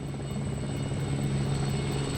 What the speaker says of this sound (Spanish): El helicóptero buscando la parte más elevada.